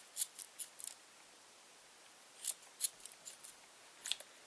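Scissors snipping through yarn loops on a puffy yarn bunny, with quick crisp clicks in small clusters and a pause between groups, close and clear against a quiet background with no talking.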